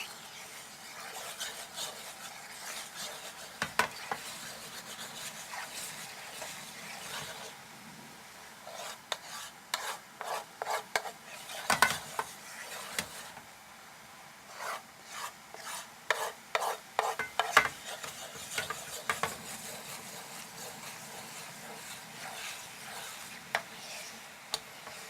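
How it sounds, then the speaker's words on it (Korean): A spoon stirs a bubbling sauce in a pan, the base for shrimp chili, making soft intermittent scraping and rubbing strokes with faint sizzling and ticks in between, close and fairly quiet. "타지 않게 잘 저어주셔야 되고요."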